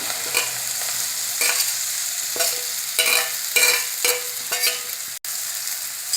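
Radish leaves for a Maharashtrian bhaji seasoned with turmeric and chili powder are stirred in a frying pan, with steady sizzling and a series of distinct scraping stir strokes, no voices.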